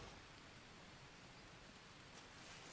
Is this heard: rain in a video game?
yes